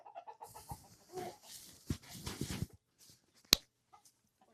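Chickens settling into a new coop give off scattered clucks and soft fowl calls, close by, with bird noise broken by rustling, a few sharp knocks, and one loud snap near the end.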